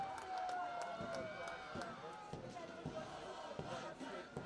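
Home crowd at an under-19 schools rugby match between Milnerton HS and Strand HS, cheering and shouting from a distance over footsteps and thuds on the field, with a commentator talking over the noise.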